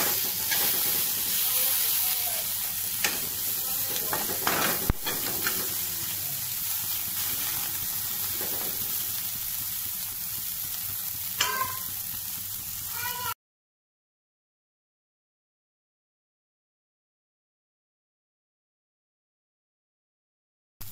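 Small river fish fry in a pan with chopped onion and a chili while being stirred, a steady close hiss and sizzle with occasional utensil scrapes and clicks, then the sound cuts to silence partway through.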